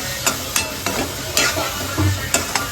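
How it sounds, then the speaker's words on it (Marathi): Onions sautéing in hot oil for a fish-fry masala, a steady sizzle broken by regular spatula scrapes and stirs roughly every half second, close and fairly loud with no talking. "आता हे थोडंसं लाल होईपर्यंत मी परतणार आहे"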